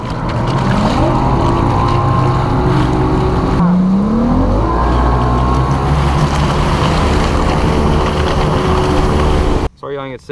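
A fishing motorboat on Lake Cherokee running out from a tournament launch, its outboard engine droning loudly and close with rising and shifting pitch, ending in a brief pause and restart.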